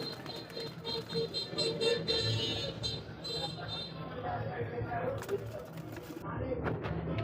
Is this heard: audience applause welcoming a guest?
no